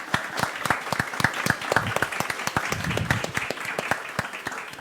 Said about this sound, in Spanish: Así que un aplauso también se merecen ustedes.